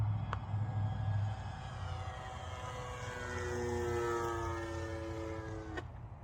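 A radio-controlled model airplane takes off and flies, its motor giving a steady, rising whine that shifts in pitch as it climbs and passes, moderately loud with no talking.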